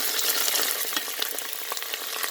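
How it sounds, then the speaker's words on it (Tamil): Long-sliced onions and green chillies fry in a pan for crab biryani, giving a dense, steady crackling sizzle with scattered sharp pops and light stirring, close and without voices. "பெரிய வெங்காயத்தை நீள வாக்கில் வெட்டி வச்சுருக்கிறேன் அதுவும் பச்சை மிளகாயும் போடுறேன்"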